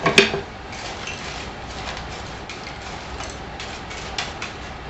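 A spoon stirring a seasoned hamburger meal in a skillet, with a sharp clank at the start and then light, irregular scraping and tapping against the pan over a steady sizzle.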